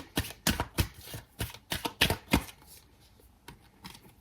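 Tarot cards being shuffled by hand, a rapid series of crisp riffling slaps and flicks close up, slowing and fading toward the end, with no talking over them.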